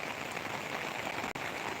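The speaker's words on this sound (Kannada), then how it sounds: "ಇದೆಲ್ಲ ಮೇಲ್ಗಡೆಯಿಂದ ಬರೋದು ಇದು ನೀರು" Heavy rain drums on an umbrella in a hilly village, a constant close, loud patter with no voices, broken only by one brief dropout.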